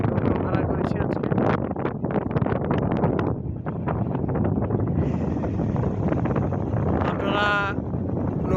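A hired trawler boat cruises on Kaptai Lake in the monsoon, its engine chugging under gusty wind buffeting the microphone, while a person talks over the steady rumble.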